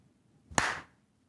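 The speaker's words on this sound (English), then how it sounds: "Give me your best clap right now." One sharp, hard hand clap rings out close and loud, standing alone against near silence.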